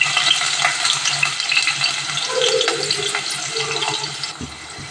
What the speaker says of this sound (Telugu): ముందుగా 1 కప్ ఆనియన్స్ అనేది ఫ్రై చేసుకుందాం.